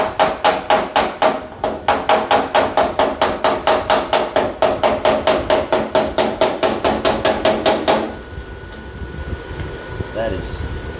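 Steady metal hammering on a rusty, weakened panel being reshaped, about three sharp blows per second for roughly eight seconds, close and loud, then stopping into a quieter room hum with a person moving about.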